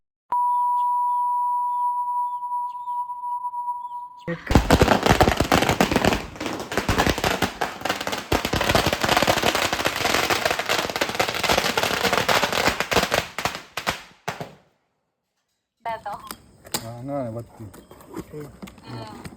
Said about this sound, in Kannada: ಪಟಾಕಿ